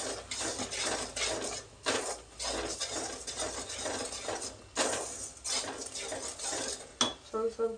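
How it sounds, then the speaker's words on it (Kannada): Metal spoon scraping and clinking against a pot while a sweet mixture with cardamom powder is stirred, steady repeated scrapes close up, with a brief pause and a few sharper clanks near the end. "ಚೆನ್ನಾಗಿ ಮಿಕ್ಸ್ ಮಾಡಿ"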